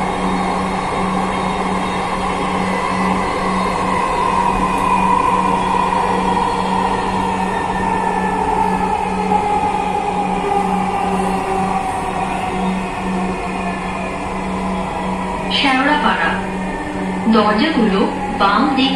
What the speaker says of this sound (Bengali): this train is bound for Agargaon